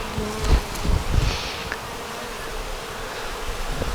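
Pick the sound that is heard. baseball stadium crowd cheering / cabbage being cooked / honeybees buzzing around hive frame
honeybees buzzing around hive frame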